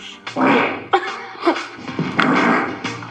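A loud, drawn-out fart rumbles in several bursts over about three seconds, sputtering and rising and falling with short pauses between pushes, heard up close with no talking over it.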